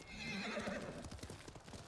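A horse in the video game Ghost of Tsushima gives a loud, close neigh that falls away, followed by a quick run of hoof clip-clops as it moves off.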